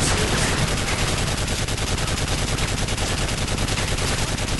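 Dense, continuous automatic gunfire from Call of Duty Modern Warfare 3, a loud unbroken rattle of rapid shots throughout with no talking.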